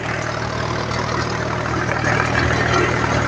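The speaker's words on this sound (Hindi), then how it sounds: "और भाई अभी रोटावेटर चालू है" A John Deere 5050D tractor running with a rotavator attached, a loud steady diesel engine drone with a low hum, continuous and close, no voices.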